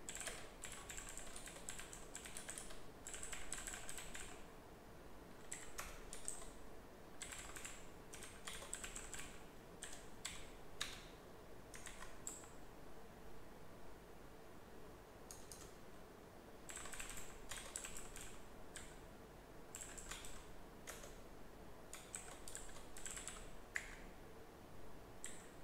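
Typing on a computer keyboard while writing JavaScript code, heard as fairly faint, quick clusters of key clicks in bursts separated by short pauses over a steady background hiss, with no speech.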